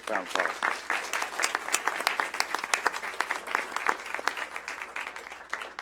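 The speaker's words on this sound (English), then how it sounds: "Let's give them a round of applause." Audience applause at a board meeting, a mix of individual claps forming a steady round, moderately close and of medium loudness, with no talk over it.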